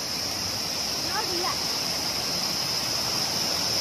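Forest stream water flows steadily along a hillside path near Palchok temple in Sindhupalchok, Nepal, giving a constant, fairly close rushing wash with a few brief high chirps over it.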